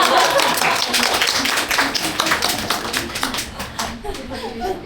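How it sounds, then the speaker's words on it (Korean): An audience claps in a crowd scattered across a few seconds, the claps fairly steady and close, with talk and a voice mixed in underneath. "박수 치셔도 돼요."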